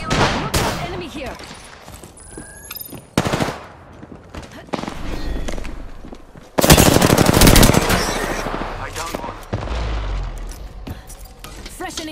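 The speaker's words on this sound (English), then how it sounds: "Bad boys are shooting at me." Rapid automatic gunfire in the Apex Legends video game, with dense bursts of machine-gun fire, a loud sustained stretch midway and scattered single shots, mixed with game sounds and brief voice lines.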